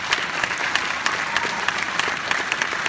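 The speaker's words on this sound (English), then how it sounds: "I think we should clap" Graduation audience at SSHS breaking into sustained applause, dense and steady throughout, a large crowd clapping together with no talk over it.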